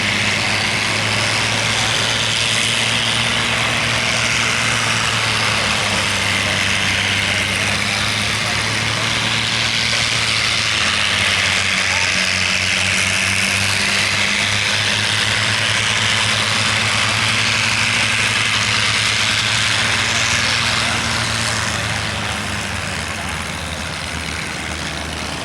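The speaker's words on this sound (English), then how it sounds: "And here we go with the engine run-up." Vintage P-51D Mustang piston engine running up, a loud sustained droning roar with low harmonics that shift in pitch and then ease off near the end, with speech heard under it.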